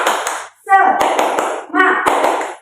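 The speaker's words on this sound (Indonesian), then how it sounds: "coba kita tepuk semangat" A primary school class does a rhythmic spirit clap, with sharp hand claps and taps in short patterned bursts mixed with children's voices chanting along, close and loud.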